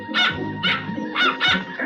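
A dog barks in four sharp, loud bursts at roughly even intervals, close by, with no talking over it.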